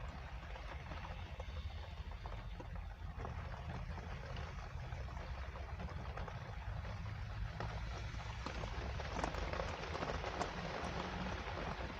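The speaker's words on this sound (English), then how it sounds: "Pouring down fucking rain." Heavy rain pours down in a steady, dense wash with close spatter of drops, continuous and loud throughout with no voices.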